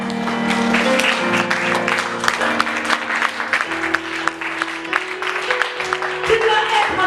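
A church congregation claps and cheers in praise, loud sustained applause mixed with voices and sustained tones from music playing alongside.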